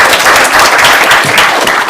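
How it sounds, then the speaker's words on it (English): Congregation at a music service with a choir breaks into loud, dense applause, a steady wash of clapping up close. "Join me in another round of applause."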